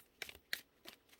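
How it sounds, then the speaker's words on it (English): Tarot and oracle cards being shuffled in a few quick, soft riffling bursts close by, faint and separated by brief pauses, with no talking. "All right, one more shuffle."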